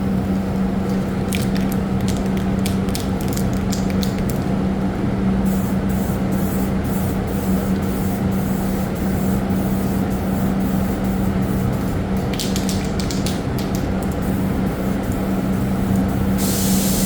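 Loud, continuous hiss of an aerosol can spraying clear coat close by, broken by a few short pauses and bursts, with no talking.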